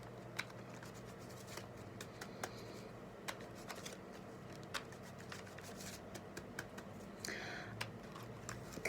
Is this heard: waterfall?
no